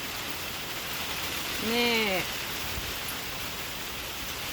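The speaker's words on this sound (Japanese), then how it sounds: "雨が結構降ってます。" Steady rain pours down during an approaching typhoon at a back entrance, a continuous broadband hiss throughout, with a short spoken word briefly rising over it.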